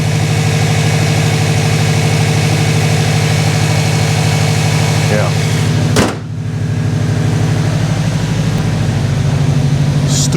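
A freshly reassembled Subaru engine idles steadily in the car, a loud, even low rumble with a brief dip and clunk midway before settling back to the same idle.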